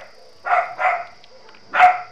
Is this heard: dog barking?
yes